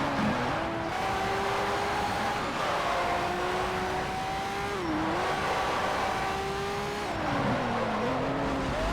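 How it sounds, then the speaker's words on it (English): A race car in Need for Speed: Shift on PS3 drones steadily and loudly throughout, its engine pitch rising and dipping as it slides through corners, with faint tire squeal mixed into the roar. "Because you can kind of just feel the car sliding."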